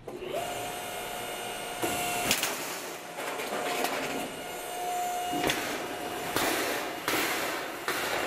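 Machine feeding a piece through during limit switch setup, a close, loud whirring drone with a steady tone, broken by repeated louder mechanical bursts and clunks as the stock passes.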